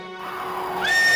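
A horse whinnies in a rising, drawn-out neigh that swells louder toward the end, heard alone and close, as a mount is described carrying a rider in a devotional story.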